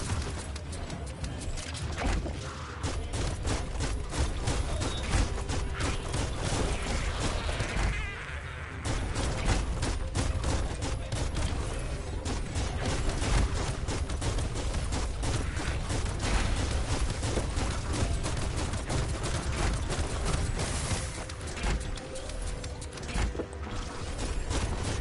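Dense, continuous gunfire in the video game Biomutant, with rapid clattering shots and mechanical rattling layered into a loud, busy barrage that barely lets up.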